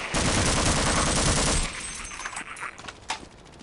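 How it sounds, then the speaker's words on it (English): Rapid gunfire from the video game Half-Life rattles in a dense, loud burst for about a second and a half, then thins to scattered, quieter shots and clatter. "give us more enemies to shoot"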